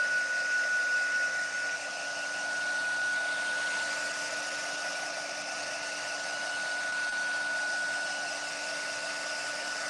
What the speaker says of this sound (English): I think I will hit this with the dryer just a little bit.